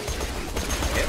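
Shotgun fire in a video game, heard as a dense, loud stretch of overlapping gun blasts and booming impacts that runs continuously through the moment.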